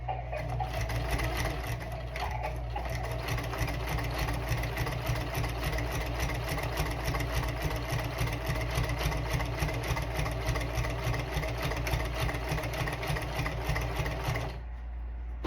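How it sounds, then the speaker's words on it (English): A sewing machine stitches through a small notebook booklet with a rapid, continuous whirring hum that runs without a break for about fourteen seconds, then stops, leaving quiet room tone. "And then I will slowly sew one way"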